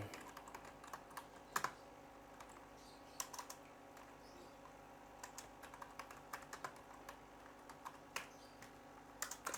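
Close, quiet typing on a computer keyboard while working in a Microsoft Excel spreadsheet, with irregular bursts of key clicks and a few sharper taps over a faint steady room hum, no talk.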